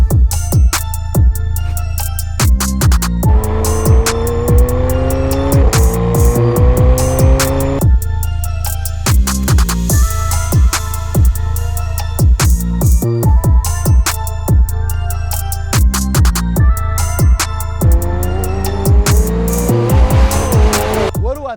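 A McLaren 765LT sports car drives hard, its loud engine repeatedly climbing in pitch and dropping back with each gear change, with sharp mechanical crackles and tire noise throughout roughly twenty seconds of continuous driving.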